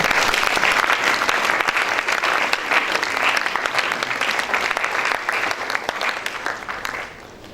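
A church congregation breaks into loud, sustained clapping in praise of the Lord, dense and lively close up, thinning slightly toward the end.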